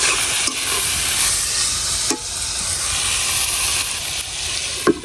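Broad beans and potato pieces fry in a pan with a steady close sizzle, occasional stirring scrapes and clanks breaking through a few times.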